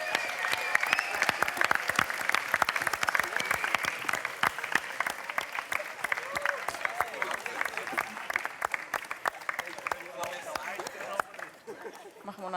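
An audience at a startup pitching competition award ceremony claps for the winning team, a long burst of dense, lively applause that stays strong and then tapers off near the end, with some crowd voices mixed in.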